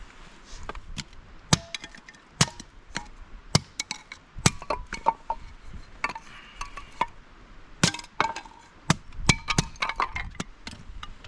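A light hatchet with a 30-inch handle chops and splits small pieces of firewood by hand at a winter mountain campsite, giving sharp, irregular cracks and knocks, some close and loud, others softer, with brief pauses between strikes.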